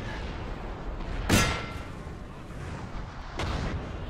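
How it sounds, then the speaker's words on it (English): Artillery fire booms in a Napoleon: Total War battle, with two cannon shots a couple of seconds apart, each a loud, broad thud rising over a constant rumbling battlefield ambience. "I'm going to continue to use the artillery to deplete them"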